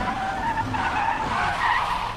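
A car brakes hard as its tires skid and squeal in one steady, loud screech that lasts the whole moment, with no voices.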